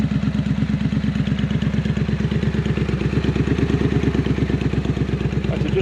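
A Triumph Scrambler motorcycle fitted with a Hitchcox exhaust holds steady at 2000 RPM, a loud, even, throbbing engine pulse close by with a rapid regular beat and no voices.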